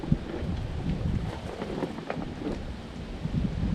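Wind gusts across a rocky hilltop campsite, making a continuous buffeting rush with low microphone rumble and occasional flaps of tent fabric, no voices.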